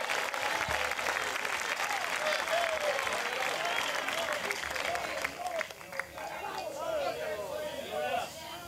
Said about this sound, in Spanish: Al Señor ese aplauso, déselo fuerte.